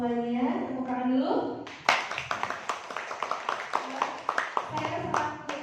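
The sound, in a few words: audience applause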